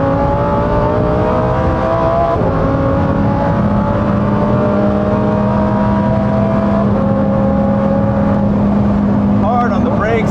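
Lamborghini Huracán STO, a track-focused supercar, driven hard on a race track with sticky tires, its engine note sustained and shifting pitch as it brakes into a corner, loud and close from inside, with a voice talking over it.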